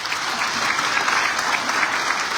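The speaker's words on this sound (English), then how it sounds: "One more round of applause for the kids." An audience at a Pathway Academy commitment ceremony gives the kids a round of applause: dense, steady clapping from many hands, fairly loud and unbroken throughout.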